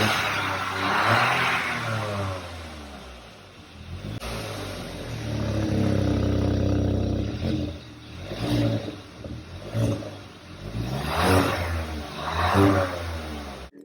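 A Hyundai i20 N Line hatchback's dual-tip exhaust burbles through several revs, rising and dropping close by with crisp blips and no talking.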